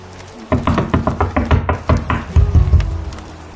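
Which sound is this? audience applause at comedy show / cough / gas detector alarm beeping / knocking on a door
knocking on a door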